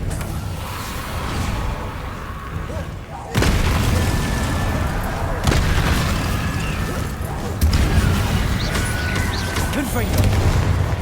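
Spell impacts in Hogwarts Legacy combat: a series of loud booming bursts land one after another over a steady rumbling battle bed, while someone talks.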